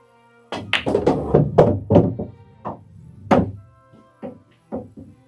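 A pool stop shot during a straight pool drill: the cue ball strikes the object ball, followed by a run of close, hard knocks and thunks from the balls, then a few softer taps with pauses between.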